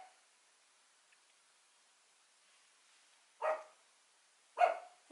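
A dog in a quiet house lets out two sharp barks a second apart after several seconds of near silence, moderately near and clear, with a third bark starting just as it ends.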